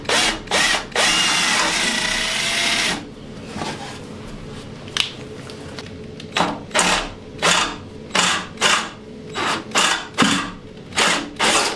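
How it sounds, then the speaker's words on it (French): Power drill boring into an aluminium floor panel for a single-seater race car, starting with a long high whine, then a quick series of short, loud, evenly spaced bursts close up. "Allez, perce là."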